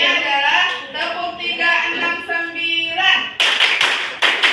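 Voices sing a children's counting song while hands clap, ending with a few sharp, close claps played alone, part of the tepuk 369 clapping game in a classroom.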